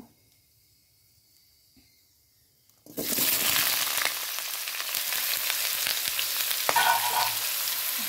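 Radish, potato, pumpkin and tomato hit hot oil with five-spice and dried chili, bursting into a loud, steady sizzle after a few seconds of near silence, with occasional stirring scrapes.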